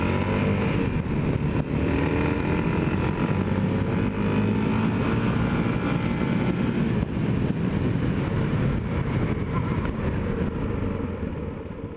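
Yamaha XT660R motorcycle riding along a road ahead of a brake test, a steady, loud engine drone with constant wind rush for the whole stretch, easing slightly at the very end.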